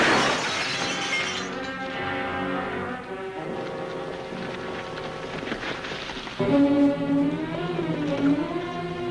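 A glass lamp shatters from a gunshot in an old western TV scene, a sudden burst of breaking glass at the start followed by sustained dramatic music.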